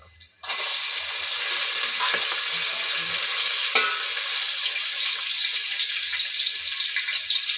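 Onion, green chili and fenugreek leaves hit hot oil for a tempering, giving a loud, steady sizzle that begins abruptly and holds throughout, with a few faint stirring clinks near the pan and no talk.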